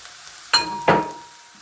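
Minced meat, seasoned with black pepper and salt, sizzles in a pan while a utensil breaks it apart, giving two sharp scraping strokes close by over a faint steady fry, with no talking.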